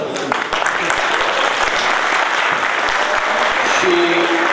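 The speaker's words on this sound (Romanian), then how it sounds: "să-i aplaudăm, să le urăm succes." Conference audience in a hall applauding candidates called onto the stage, loud continuous clapping that holds steady throughout, with some voices and a brief whistle-like tone near the end.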